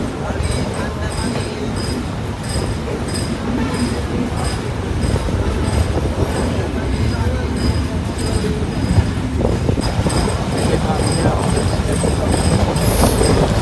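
Ekota Express train pulling out of Ibrahimabad station toward the Jamuna bridge, heard from inside as a steady, loud rumble of wheels and carriages with rhythmic clicking over rail joints.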